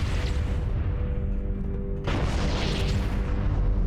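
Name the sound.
grunt exploding in Halo video game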